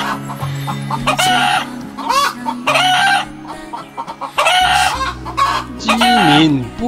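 A rooster in an old riverside town in western Hunan, China crows loudly and close several times, with clucking between the calls and a faint voice underneath.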